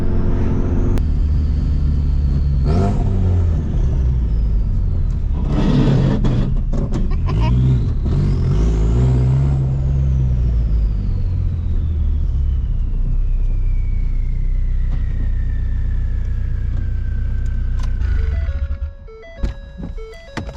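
A car engine rumbles and revs as the vehicle drives, pitch rising and falling with gear changes, with thumps from the road and a whining tone.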